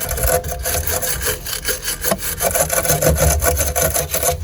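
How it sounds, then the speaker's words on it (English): Wire brush scraping a rear brake caliper on a 1999 BMW 328i E46, a close, loud, rhythmic back-and-forth rasping of bristles on metal, steady strokes with no talking. "So you just take a wire brush like this."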